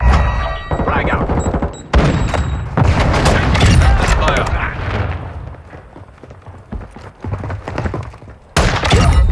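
Grenade blasts and gunfire in a Call of Duty–style shooter game's hardpoint match with an SA-B 50 marksman rifle: several heavy booming thuds and shots in bursts across the clip, loud and close, with players talking over the action.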